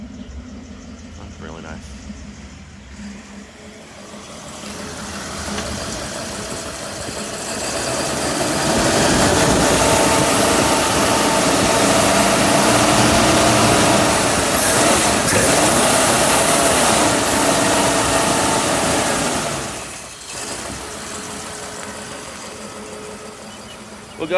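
A 1964.5 Ford Mustang convertible's 260 V8 with four-speed idles after a cold start, a steady low rumble that swells louder midway and then settles back, with a person speaking briefly over it.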